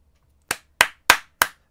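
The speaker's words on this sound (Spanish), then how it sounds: "un aplauso a los dos eh." Four sharp, evenly spaced hand claps ring out close by during an esports league semifinal broadcast, each crisp and quick, with silence between them.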